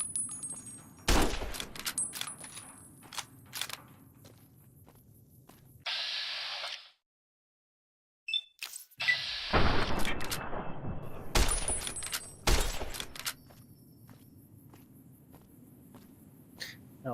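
Rifle fire in a video game, sharp loud bursts of shots scattered through a busy game soundscape, with a brief silent gap midway and a hissing effect before the shooting resumes.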